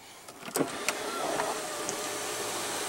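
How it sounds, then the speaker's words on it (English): Powered sliding shade under the panoramic sunroof of a 2016 Volvo XC90 running on its electric motor, a steady soft whir inside the cabin with a couple of brief clicks near the start. "And then you also do have a powered sliding shade."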